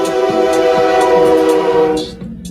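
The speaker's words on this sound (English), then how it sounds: "now you know the train always gotta make its appearance in my videos." A train blows a loud, sustained horn as it passes, the steady chord holding for about two seconds before cutting off, with rumbling rail noise underneath and no talk.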